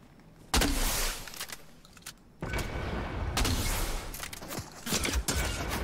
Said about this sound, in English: Can't you see I'm trying to throw fireworks?